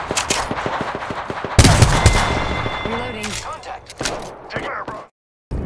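Apex Legends gunfire bursts in rapid, loud automatic rattles, then a heavy blast and more scattered shots, with a voice and game chatter mixed in before a sudden cut to silence.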